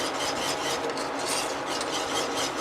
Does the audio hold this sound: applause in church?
no